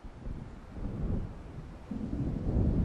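Thunder from an approaching storm in the video game Alan Wake rolls as a low, continuous rumble. It swells and thickens toward the end over a faint windy wash, with no voices.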